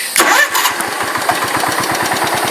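A Ford LGT 125 garden tractor engine is started without choke, catching quickly and settling into a steady, rapid chugging idle with a regular low thump, loud and close with no talking.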